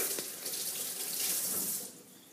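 Water runs steadily from a kitchen tap, a close, continuous hiss that eases off near the end, while making honey whole wheat sandwich bread.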